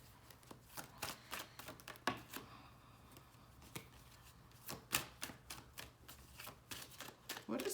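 A deck of tarot cards is shuffled by hand, giving quick irregular bursts of crisp riffling and slapping close up, with short pauses between flurries in an otherwise quiet room.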